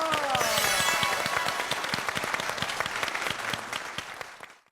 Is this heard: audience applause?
yes